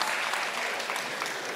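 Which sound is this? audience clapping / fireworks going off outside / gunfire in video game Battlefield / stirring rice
audience clapping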